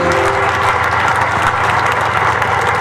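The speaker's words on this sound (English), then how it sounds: "Huge round of applause." Audience members at a university convocation give gold medalists a standing round of applause, loud, dense clapping that stays even throughout, with a low hum of music or voices beneath.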